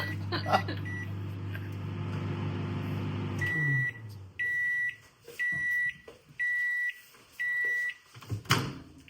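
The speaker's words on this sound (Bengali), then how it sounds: "এটা আমি এখন দুই মিনিট মিনিটের জন্য মাইক্রোওয়েভ ঢুকিয়ে দিব" A household microwave oven hums steadily for a few seconds, then stops and gives five evenly spaced, loud electronic beeps, with faint clatter and rustling around it.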